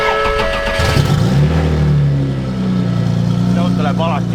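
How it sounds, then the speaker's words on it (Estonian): An Audi S4 engine cranks and catches, then settles into a steady mid-pitched run at close range, with a voice briefly audible near the end. "See auto läheb alati käima."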